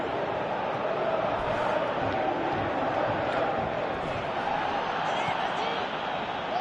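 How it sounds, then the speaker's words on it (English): Stadium crowd in the PES 2018 football game, a broad steady roar of many fans swelling in appreciation, dense and continuous with commentary-like talk underneath. "Crowd appreciates good football all round there."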